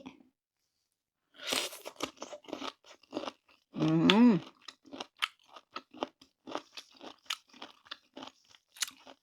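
Crunchy pickled bamboo shoots with red chili bitten and chewed close by, a burst of crisp crunches followed by a steady run of short chewing crackles.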